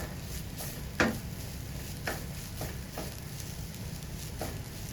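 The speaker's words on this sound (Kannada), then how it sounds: "ಗ್ಯಾಸ್ ಲೋ ಇಟ್ಟು ಫ್ರೈ ಮಾಡಬೇಕು." Spices with turmeric fry on low gas for a Mangalore-style chicken curry, making a soft, steady sizzle with a few light spoon taps and scrapes at intervals.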